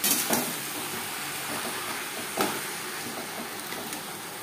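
Taro leaves with chickpeas and coconut sizzle on a high flame, a steady close hiss of frying broken by a couple of brief stirring scrapes.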